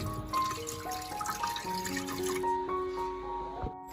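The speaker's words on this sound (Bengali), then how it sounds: "এরপর আমি এর মধ্যে পরিমাণ মতো জল দিয়ে দেবো।" Water is poured into a pressure cooker holding mangoes for aam panna, a close, steady splashing trickle with ringing tones that shift as the vessel fills, then ends in a brief clatter.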